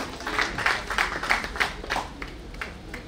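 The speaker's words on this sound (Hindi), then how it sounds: "एक बार जोरदार तालियां दत्ता जी के लिए।" Steady applause from an audience at an award ceremony, a dense patter of many hands clapping at moderate volume, continuing throughout without any voices.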